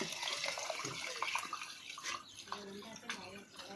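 Water poured into a pot while mutton biryani is being cooked, a steady splashing, running-water wash throughout, fairly close, with a voice speaking over it.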